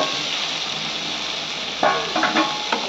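Fried potatoes tumble into spice paste that is sizzling in oil, a steady hiss of frying running throughout with a few brighter bursts of splatter and stirring near the end.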